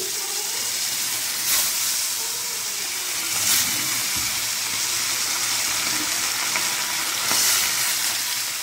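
Fish fries in hot oil with a loud, continuous hiss and bubbling sizzle, swelling briefly now and then, with no voices.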